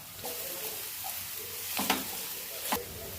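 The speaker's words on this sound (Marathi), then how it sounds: "सर्वात आधी कांदा टाकून व्यवस्थित परतून घ्यायचा आहे" Onion and crushed garlic sauté in a pan with a soft, steady sizzle, broken by a couple of sharp stirring scrapes near the end.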